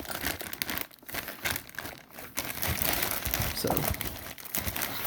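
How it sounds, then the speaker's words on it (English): A wrapped car charge pipe package is unwrapped close by, with continuous loud plastic crinkling and crumpling, some tearing, and a brief spoken word. "I'll go ahead and unwrap this and show you guys what I'm talking about."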